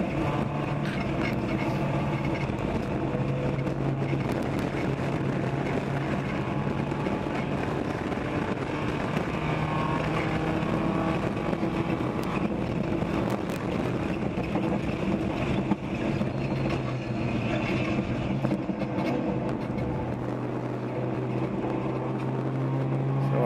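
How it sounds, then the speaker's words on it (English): Continuous heavy helicopter engine drone with whirring tones and wind rumble, rotors winding up and sustained for a long stretch at a ChampCar endurance race, loud and near. "Helicopters starting to spool up their rotors."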